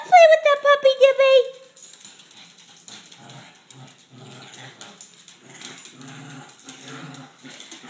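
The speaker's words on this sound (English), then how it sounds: "Olivia, are you playing with that puppy, Gibby?" A puppy lets out a series of high, wavering whimpers, then quieter whines and low growls continue under a person talking nearby.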